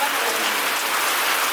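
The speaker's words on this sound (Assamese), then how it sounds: "বৰষুণ বৰষুণ বৰষুণ বৰষুণ" Steady, even rain hiss pours down on an Assamese short-film set, dense and unbroken with no drops standing out across the short stretch.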